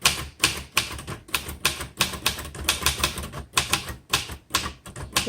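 Typing on a 1963 Royal Safari manual typewriter: a quick, rhythmic series of crisp mechanical key strikes, close and clear, with brief irregular gaps between clusters of keystrokes.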